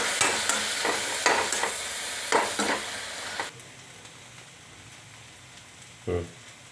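Simmering gongura curry with wild beans is stirred in a pot, making several close scraping and sizzling strokes, then a quieter stretch with a faint simmer and one last brief stir.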